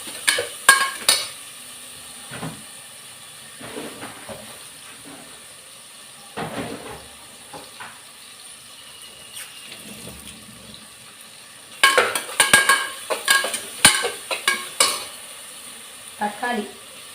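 Curry leaves, chillies, peppercorns and ground masala sautéed in a pan for a sorakkai karamani rice lunch, with soft sizzling and repeated scraping stirs, busier bursts of spoon clatter toward the end, no talking.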